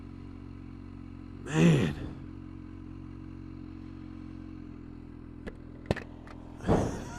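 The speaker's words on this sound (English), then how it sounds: "Whenever you back off on it and you hear that supercharger backing off, it sounds so good." A Kawasaki H2 SX SE touring motorcycle drones steadily underneath as its supercharger lets out two breathy whooshes when the throttle is backed off, one early and one at the end, with a few sharp clicks between; a man briefly exclaims.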